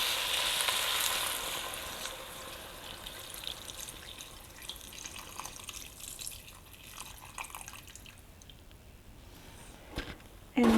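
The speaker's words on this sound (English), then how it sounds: "Now then, I'm going to stir in my stock." Stock goes into a pot of creamy ham and potato soup with a loud initial sizzling splash that settles into a softer bubbling hiss, ending with a brief clatter.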